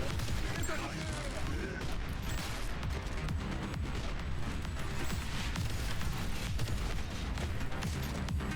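Rocket launcher fire in a video game, dense repeated explosive bursts and booms over a continuous busy mix, with a voice talking underneath.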